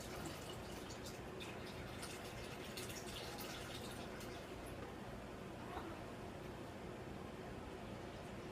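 Brewed iced green tea poured into a cup, a dense steady splashing pour that runs continuously from start to finish, fairly close and alone.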